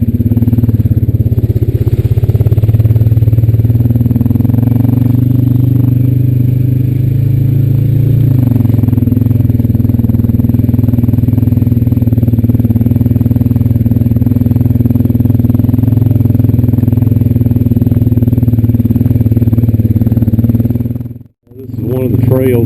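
A Honda Rancher 420AT ATV engine drones loud and steady while riding a trail, its pitch shifting briefly and then settling, with a sudden dropout near the end.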